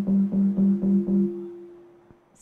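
A Sonic Pi coded loop plays eight beats, a run of short, evenly spaced synth tones at one low pitch, then a fading tail, electronic and close with no voices.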